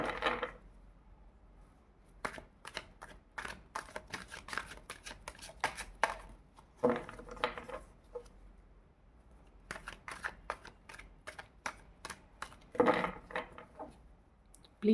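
A deck of tarot cards is shuffled by hand in quiet bursts of quick, papery riffles and slaps, separated by short pauses, close and soft in a still room.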